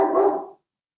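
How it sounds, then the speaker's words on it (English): A single loud, close dog bark, short and sharp, that cuts off quickly into silence. "Let me liberate that dog. He's not going to stop barking."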